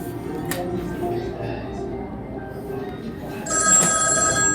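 An old telephone rings at a Ripley's Believe It Or Not exhibit in Niagara Falls, Canada, its bell trilling faintly inside a noisy museum hall before one louder ring near the end.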